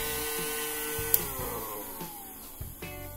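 An indoor air hover ball toy runs its fan loudly up close, a steady motorized whir with a gliding whine that shifts in pitch, broken by a few brief knocks and clicks.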